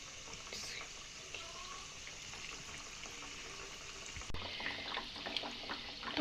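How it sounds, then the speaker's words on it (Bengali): Biscuits dropped into warm oil fry with a steady, faint crackling sizzle that carries on throughout, turning somewhat busier and louder toward the end. "এবার আমি বিস্কুটগুলো ছেড়ে দিচ্ছি তেলের মধ্যে।"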